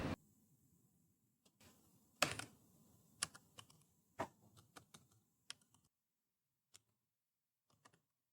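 Keys on a computer keyboard clatter in uneven bursts while HTML code is typed, with close, crisp clicks, a few louder strikes, short pauses, and a quiet stretch near the end.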